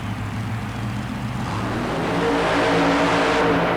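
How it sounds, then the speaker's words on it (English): A supercharged Chevrolet super modified mud racer roars at full throttle on a rutted dirt track, its loud, steady engine climbing in pitch as it accelerates, close and continuous with no talk. "the Bad Habit supercharged Chevrolet makes his bid."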